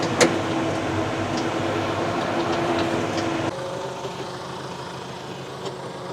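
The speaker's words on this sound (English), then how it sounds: "That is a beast of a disc and a beast of a tractor." A heavy tractor engine drones steadily while pulling a large disc harrow through a field, a loud continuous rumble that drops to a lower, quieter hum partway through.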